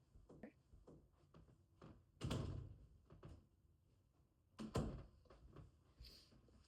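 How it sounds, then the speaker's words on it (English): A door is pushed shut indoors at home on a snowy day, giving two fairly close thuds a couple of seconds apart amid light shuffling and handling noises. "I'm gonna close this door."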